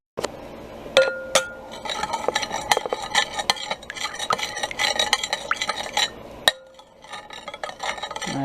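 Chicken mixed in a bowl with melted butter, salt and pepper for a sheet pan dish, a busy run of close clinks and scrapes of a utensil against glass, with one sharp knock near the end and a quieter tail.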